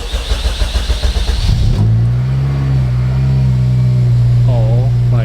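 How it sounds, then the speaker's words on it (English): An Acura RSX Type S with 114,000 miles cranks briefly, then the engine catches and settles into a loud, steady idle close by. "Now, the moment of truth. Let's start the car."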